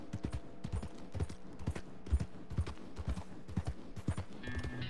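Steady clip-clop of horse hooves in Red Dead Redemption 2 trots along at a quick, even rhythm, moderately loud with faint game effects underneath.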